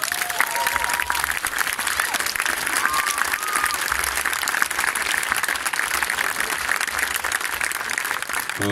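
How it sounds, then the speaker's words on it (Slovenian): A crowd at a guitar orchestra concert applauds drummer Denis Jančić with a continuous, full wash of clapping, loud and sustained throughout with no pauses. "Zaradi tega poseben aplavz dobi"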